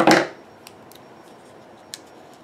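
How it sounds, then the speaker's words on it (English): A single sharp snip of scissors trims the excess off a white paper photo corner, followed by near silence with a couple of faint ticks. "So all I'm doing is trimming off that bottom extra of the photo corner."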